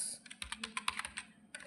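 Quick light keystrokes on a computer keyboard while a password is typed in a Tally ERP 9 setup, about a dozen soft close clicks in an uneven rhythm, fairly quiet.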